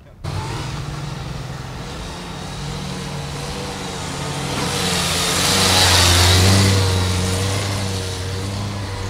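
Honda CB650F ABS learner motorcycle engine running steadily, with low harmonic hum that swells midway as if briefly revved, close and loud throughout.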